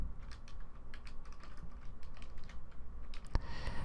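Fingers type on a computer keyboard in a quick, uneven run of crisp clicks, ending with one sharper key strike, close up and without speech.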